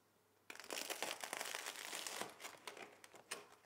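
A knife or pizza cutter crunches through a crisp pizza crust, with a loud, dense run of crackling, crinkling cuts that starts abruptly and continues unevenly close up.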